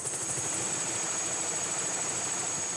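A helicopter carrying LIDAR equipment flies over the forest around Angkor, its engine and rotor giving a steady, even drone with a high whine on top and no talk.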